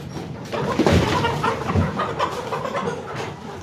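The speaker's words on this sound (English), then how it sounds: "These are Saswai improved kienyeji chicken and they're approaching egg laying." Hungry Saswai improved kienyeji chickens near laying age cluck and murmur at morning feeding on a small Kenyan farm, a cluster of soft overlapping calls close by, with faint rustling and no speech.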